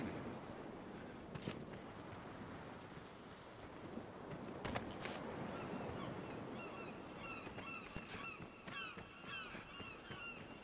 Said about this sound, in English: I love the sound of seagulls.